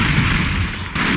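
Sniper gunfire in the retro side-scrolling video game Broforce comes as a short, loud, dense blast of noisy roar that dips briefly and then surges again.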